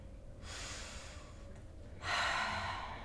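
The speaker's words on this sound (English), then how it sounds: "One more big inhale and exhale." Deep breathing during a floor-based yoga hip-opener stretch: a long, airy inhale followed by a fuller, louder exhale near the end, close and steady with no talking.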